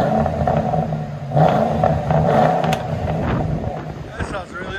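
Inside a Ford Crown Victoria with a 4.6L V8 and Flowmaster Outlaws exhaust, a deep engine rumble drones steadily and swells briefly as the throttle opens, loud and close, with some cabin clatter.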